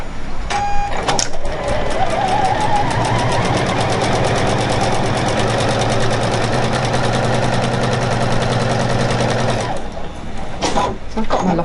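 A Juki HZL-NX7 sewing machine sewing a straight stitch makes a steady, rapid mechanical whirring hum for about nine seconds, close and loud, then stops with a couple of short clicks.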